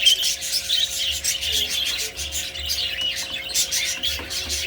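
Pet parakeets chirping and twittering in a continuous busy chatter, close and fairly loud, with a steady low hum underneath.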